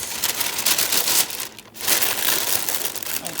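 Crinkling parchment paper spread over rising bread dough, a dense, loud rustle that carries on for a few seconds, dips into a brief near-quiet moment, then picks up again up close.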